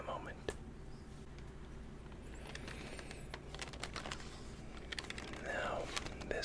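Soft clicks from typing on a computer keyboard in a quiet room, close up and low in level, with steady irregular keystrokes over a faint background hiss.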